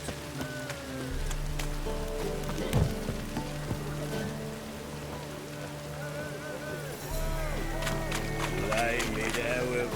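Steady patter of rain on a surface in the video game The Witcher 3: Wild Hunt, with layered tonal background music and a low rumble, continuous throughout, rising slightly in the final seconds.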